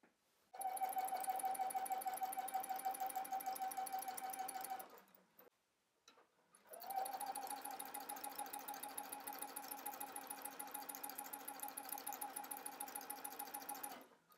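A sewing machine stitches a dress skirt in two long, steady runs with a rapid ticking needle rhythm, stopping for about two seconds in the middle before starting again, close and alone.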